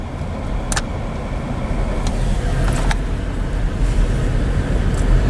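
A car driving through a wooded state park in Palatka, Florida gives a steady, loud low rumble of engine and road noise heard from inside, with a few faint high ticks and no talking.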